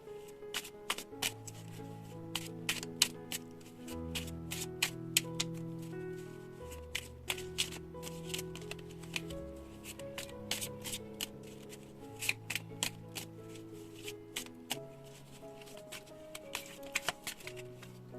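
Tarot cards are shuffled and drawn close up, giving a quiet run of crisp riffles and soft slaps with irregular snapping clicks, alone without talk.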